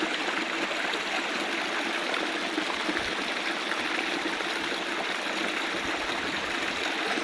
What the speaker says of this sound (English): I thought I must stop and just show you this waterfall.